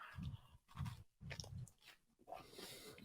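Close, crisp bites and chewing of a crunchy handmade cookie, several loud crunching bursts in an uneven rhythm with short pauses between them and no talking.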